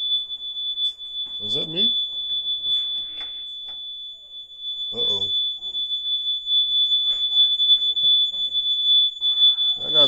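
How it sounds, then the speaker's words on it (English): A smoke alarm sounds a steady, piercing high electronic tone continuously throughout while someone speaks briefly in short bursts over it. "I gotta turn off the fire alarm."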